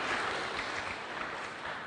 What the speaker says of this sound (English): Please can we give another big round of applause to our guest of honor, Right Honorable Professor Michael Ekwe.